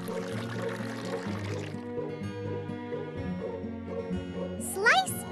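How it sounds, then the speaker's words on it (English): Cake pop mixture is poured into a pan in a cartoon cooking game, a brief liquid pouring effect set against cheerful tonal game music. "Slowly pour the mixture into the pan."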